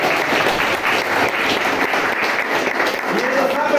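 Applause from a group at a birthday party as cakes are brought out, dense continuous clapping that stays loud and close for the whole stretch, with voices mixed in.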